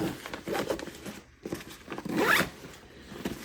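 A zipper on a backpack pocket is pulled in a couple of short strokes, close and crisp, with brief pauses between pulls.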